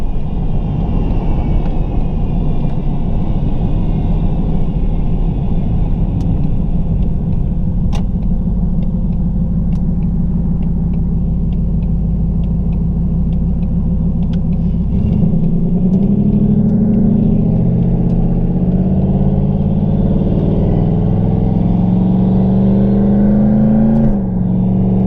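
A Ford Mustang with a TH400 automatic transmission accelerates on a street, its engine a loud, steady rumble that climbs in pitch through the second half.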